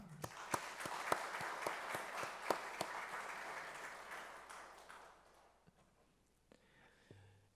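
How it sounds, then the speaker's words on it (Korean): A church congregation at a Parents' Day service applauds the parents in a faint, distant round of clapping with a few sharp louder claps up front, tapering off after about five seconds into near quiet. "우리 모두 등마루의 모든 부모님들께 드리는 큰 박수로 하나님께 영광의 박수를 올려드리겠습니다"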